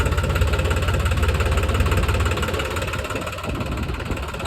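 A tractor working a muddy field gives a loud, close, steadily thrumming engine note that eases slightly in the second half, with no talk over it.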